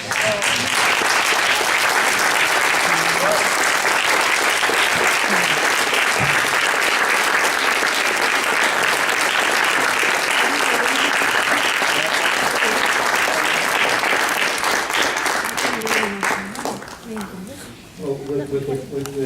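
Sustained audience applause at a memorial gathering as the family stands, loud and dense for most of the clip before tapering off near the end, with voices faintly mixed in.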